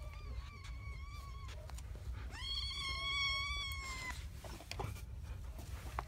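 A cat meows several times in a row nearby, with one longer, louder cry in the middle, heard over a steady low background rumble.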